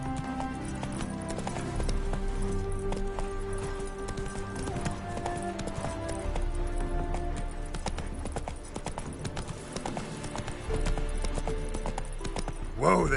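The horse Roach from The Witcher 3 trots and gallops with a steady clip-clop of hooves, heard under game dialogue and music with a brief voice near the end.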